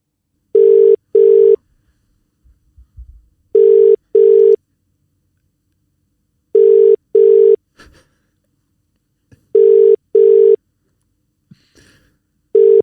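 Phone call ringback tone while waiting for someone to pick up: paired electronic beeps repeating about every three seconds, clear and steady, with faint background shuffling between them.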